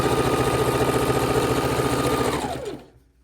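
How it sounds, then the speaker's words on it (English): A sewing machine stitches half-square-triangle quilt pieces together with 1/4 inch seams in a steady, loud, close mechanical whir that runs continuously, then winds down and stops near the end. "Because we're sewing 4 half square triangles together."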